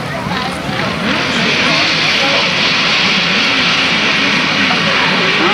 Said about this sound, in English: Well, the revs have certainly gone up